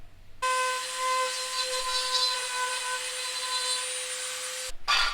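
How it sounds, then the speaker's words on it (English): A Dremel rotary tool cuts into a plastic Silverado headlight housing with a high, steady, motor-driven whine. The whine starts abruptly, holds for about four seconds, then cuts off. "So we're going to go ahead and trim this piece, just utilizing again this Dremel."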